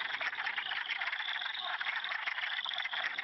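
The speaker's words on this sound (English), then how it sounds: "the males are giving off mating calls which sound similar to a quacking duck" A dense chorus of male wood frogs calling together at a vernal pool, a continuous clucking, quacking chatter with no single voice standing out.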